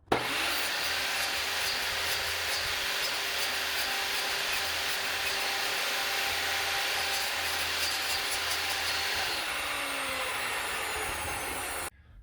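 Power saw cutting a notch in wood wall framing inside a school bus conversion to fit around a metal piece; a steady, loud continuous cut running about ten seconds, then winding down as the blade stops, with no talking.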